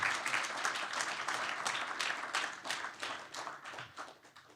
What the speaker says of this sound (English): So let's give applause